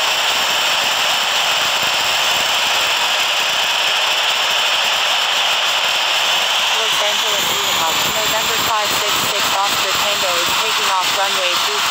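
Airplane going around over the runway in a pattern at Los Angeles: a loud, steady engine roar with a high whine fills the whole stretch, with a voice talking over it.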